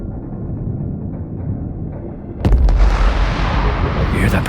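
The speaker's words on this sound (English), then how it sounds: "Cannon fire. They're trying to blow us out of the water." Warship cannon fire erupts as a single loud, deep boom that rolls on into a sustained rumble after a quieter stretch of low background noise.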